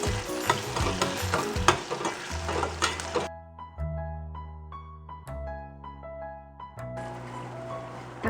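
Tomatoes sauté in a hot pan with a loud, steady sizzle and crackle for about three seconds, then the sizzling cuts off and soft music follows.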